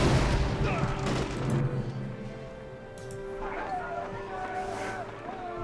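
Gunfire and artillery from units in Axis & Allies (2004) at the Battle of Guadalcanal, a rumbling barrage of booms and rattling shots with engine noise, while a voice speaks over the battle.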